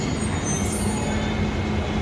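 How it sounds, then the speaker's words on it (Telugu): A metro train arriving rumbles steadily nearby, a continuous low mechanical roar with faint high metallic whine, no voices. "మా మెట్రో వస్తుంది వస్తుంది"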